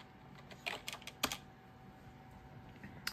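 A few scattered keystrokes on a computer keyboard as a password is typed, quiet taps in short clusters with pauses between them.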